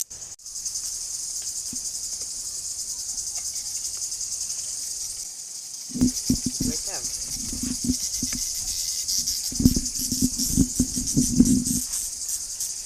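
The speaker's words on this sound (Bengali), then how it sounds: "তোমার ঝিঝি পোকার গান কেমন লাগে?" Crickets chirp in a steady, high, unbroken trill; partway through, close rustling and handling noises join in over the continuous insect song.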